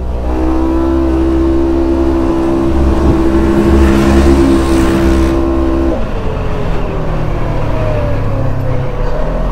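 Segway Fugleman side-by-side powering up a very steep hill, its engine a loud, steady droning roar that holds near and strong, dropping slightly in pitch partway through before pulling on again.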